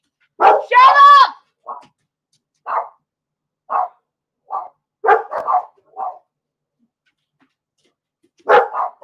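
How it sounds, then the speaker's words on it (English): Dogs bark in a burst of sharp, loud barks, then single yips follow at irregular intervals with near silence between them, and a final pair of barks comes at the end. "Dogs went nuts."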